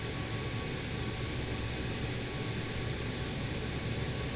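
Jet engines of a BAe 146 airliner in a flight simulator game hum steadily at a constant, moderate level, a smooth continuous whine and rumble with no speech over it.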